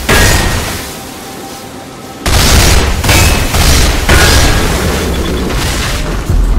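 Heavy gunfire in the video game Damnation, loud close booming blasts that kick in after a quieter stretch, then continue as repeated overlapping bursts and explosions, with no speech.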